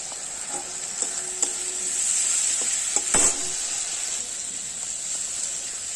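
Hilsa fish curry with potato, taro and onion fritters sizzles steadily in a pan, a continuous bright hiss broken by a few sharp scrapes and clicks of stirring.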